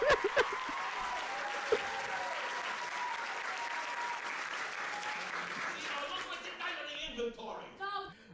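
A theater audience at a Little Shop of Horrors stage performance bursts into sustained applause and cheering. The crowd noise stays dense and steady, then thins near the end as a few voices cut through.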